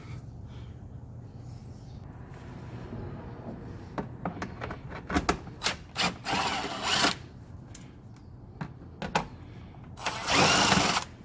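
Power tool, likely a drill, backing out 7mm screws from the bumper pan of a 2015-17 Ford Mustang, with short whirring bursts and rattles in an irregular series over a low background hum.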